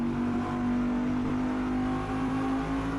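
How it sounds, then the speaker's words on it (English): Daytona Prototype race car engine in the Assetto Corsa racing game at Midfield Raceway during a night race, a loud, steady, grumbling drone that holds a constant pitch throughout with no speech. "The engine just sounds so grumbly, so fierce, so hard."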